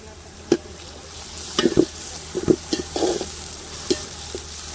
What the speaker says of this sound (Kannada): ಈಗ ಹಸಿ ವಾಸನೆ ಹೋಗೋ ತನಕ ಚೆನ್ನಾಗಿ ಫ್ರೈ ಮಾಡ್ಕೋಬೇಕು